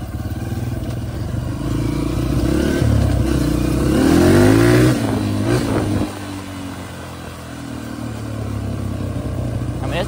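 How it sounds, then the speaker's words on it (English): A Honda CRF150F trail dirt bike revs and accelerates up close, its engine climbing in pitch to a loud peak before easing off to a lower steady drone, with some rattling clatter underneath. "this dirt bike feels pretty stout to be a trail bike."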